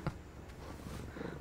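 A cat purrs softly in the Monster Hunter Stories 2 video game, a faint, low, rumbling purr lasting about a second and a half.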